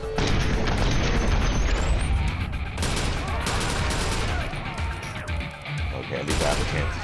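Gunfire in the video game Watch Dogs: dense, loud bursts of shots and booms that run through the whole stretch, with a game voice heard briefly under the racket.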